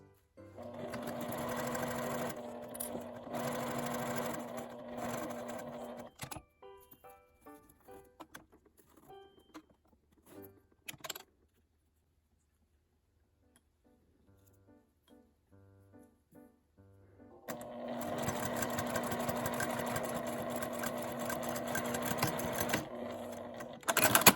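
A sewing machine stitches a small quilted fabric mini pouch from scraps, running in two long loud bursts at the start and end with a quieter stretch of lighter clicking and handling noise between them.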